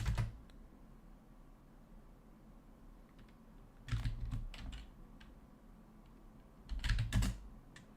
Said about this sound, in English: So if I type, I always keep typing the wrong thing.